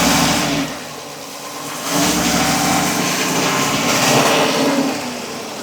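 Car engine being revved to about 1500 RPM during a cylinder misfire check, a steady close mechanical roar that dips briefly then swells and holds at higher revs.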